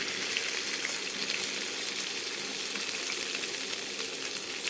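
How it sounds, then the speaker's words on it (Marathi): Chopped okra frying in hot oil with cumin, giving a steady, dense sizzle with no breaks, fairly close and alone without any talk. "जिरे चांगले तळून झाले की आपण त्यामध्ये घालून घेणार आहोत आपली बारीक चिरून घेतलेली भेंडी"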